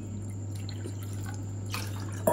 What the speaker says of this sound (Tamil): அதே கப்பில் 6 கப் அளவுக்கு தண்ணி சேர்த்துக்கலாம்